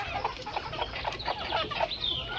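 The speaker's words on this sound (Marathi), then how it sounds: "आणि आता कोंबड्या आपले खात आहेत" Chickens cluck softly while pecking at grass tossed to them, a cluster of short repeated clucks close by over low background noise.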